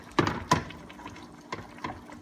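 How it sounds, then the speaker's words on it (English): Beef broth is poured into a pot of beef and chicken pochero, giving faint splashing and liquid sounds with a couple of brief louder sloshes early on and quieter trickles after, with no voices. "We'll add just a cup of beef broth."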